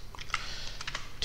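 Computer keyboard keys clatter in quick, irregular clicks during a math lesson, a short burst of close, moderately quiet typing with no speech.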